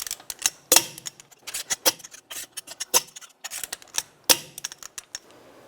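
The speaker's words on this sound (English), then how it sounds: "I'm going to torque the lug bolts to 89 foot-pounds in a cross pattern to tighten the wheel down evenly" Lug bolts on the front wheel of a 2006-2009 Volkswagen Rabbit tightened with a torque wrench in a cross pattern, giving sharp irregular metallic clicks and ratcheting ticks spread across the moment, close and crisp, with no talking.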